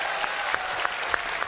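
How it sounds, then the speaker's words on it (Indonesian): An audience applauds a pantomime contestant at a comedy show: a dense, steady wash of clapping from a crowd, moderately loud, with a few sharper individual claps standing out at regular intervals, and no talk. "bagaimana tepuk tangan untuk Mas Yon Gondrong?"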